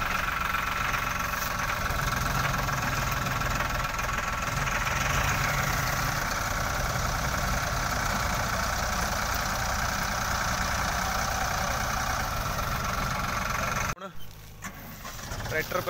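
A John Deere tractor engine idles close by with a steady, knocking diesel rumble that runs unbroken for most of the clip, then cuts off abruptly near the end, with people talking over it.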